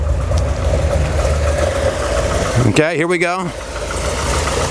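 Pontiac G8 GT V8 engine idling steadily nearby with a low continuous rumble, a person briefly speaking over it.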